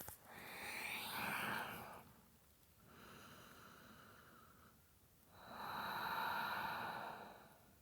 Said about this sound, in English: Come back to releasing the breath out the mouth.